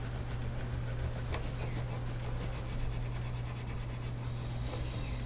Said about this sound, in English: And even the steel wool will kind of help get rid of that excess gunk that you weren't able to scrape off initially.